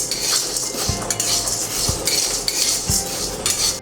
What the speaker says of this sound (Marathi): आता आपण हरभरा डाळ टाकूया.